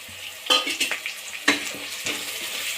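Coriander and mint leaves are stirred through hot oil, crackling and sizzling steadily while a spoon scrapes the pan in a few distinct, close strokes.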